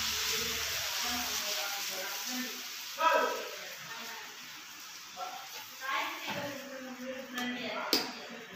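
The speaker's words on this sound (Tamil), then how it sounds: "நம்ம இப்போ தோசை ஊற்றிடலாம்." A hot griddle stone hisses as dosa batter hits it, giving a steady broadband sizzle with brief spattering pops. Faint voices are heard in the background.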